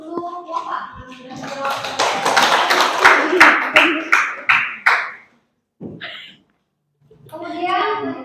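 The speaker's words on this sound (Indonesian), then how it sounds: "Kita beri aplaus untuk Bapak." Students in a biology classroom break into dense, loud applause that thins into a few sharp, rhythmic claps before stopping, with children's voices heard before and after.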